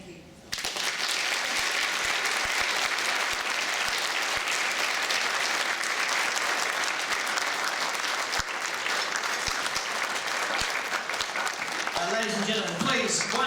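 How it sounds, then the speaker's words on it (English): Sustained applause from a gala audience honouring Sheila Collecott, a dense, steady wash of clapping that starts abruptly after a brief pause and continues evenly throughout, with a voice emerging near the end. "Ladies and gentlemen, please, one more big round of applause for Sheila"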